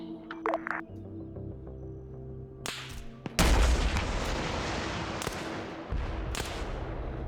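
Rocket launcher fired in a tactical military shooter game, followed by a loud close blast and long rumbling tail, with earlier sharp clicks and small bangs before it.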